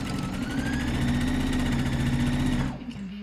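A sewing machine runs at a steady fast pace, stitching a second line over the crotch seam of lounge pants, its motor whir and rapid needle chatter close and continuous, then stopping just before the end.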